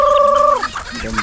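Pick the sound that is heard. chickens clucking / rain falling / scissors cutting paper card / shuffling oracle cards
chickens clucking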